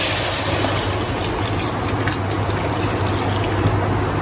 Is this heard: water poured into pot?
yes